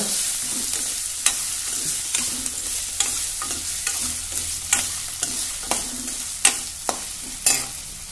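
Carrots frying in a pan for spinach upma, a bright steady sizzle with regular spatula scrapes and taps every half second or so, close and clear, nobody speaking.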